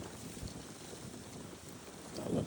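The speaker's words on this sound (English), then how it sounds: "As you can see, today's pretty windy too." Strong wind gusting through a Florida winter garden of mango trees, buffeting the microphone with a steady low rumble that swells into a louder gust near the end, with no talking.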